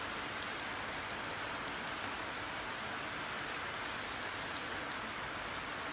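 Steady heavy rain pours down during a severe thunderstorm in Halberstadt, a dense, unbroken hiss that stays loud and even throughout with no voices.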